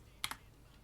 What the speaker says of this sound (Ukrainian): Вводимо пароль.